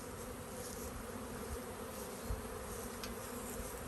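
Honey bees flying around a nuc beehive, a dense continuous buzzing hum from many insects close by, steady throughout.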